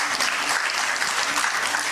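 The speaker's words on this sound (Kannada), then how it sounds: "ಚಪ್ಪಾಳೆ ಜೋರಾಗಿ ಕಟ್ಬೇಕು ನಾವು" A crowd claps loudly and steadily at a co-operative society's award and student-aid ceremony, a dense, even burst of applause from a hall audience.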